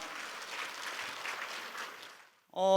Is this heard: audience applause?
yes